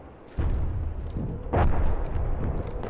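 Two heavy gunshot blasts in the VR game Medal of Honor, one early and a louder one around the middle, each followed by a lingering boomy rumble.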